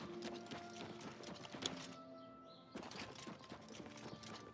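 Horse hooves clip-clop in the video game Oblivion Remastered, a quiet, steady walking rhythm of soft hoof beats with faint ambient game sounds around them.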